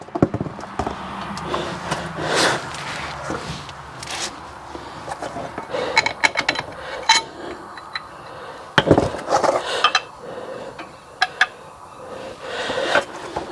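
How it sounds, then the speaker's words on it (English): Bolt holes being enlarged in metal parts while lowering a 1971 Ford F350 truck, heard as scattered knocks, scraping and sharp metallic clatter in irregular bursts, close by with no talking. "I'm gonna have to open these holes up to get the bolt to go through."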